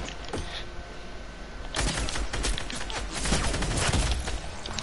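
Scar rifle gunfire in a shooter video game, heard as dense rapid bursts of shots that get heavier after the first couple of seconds, loud and continuous over a busy game backdrop.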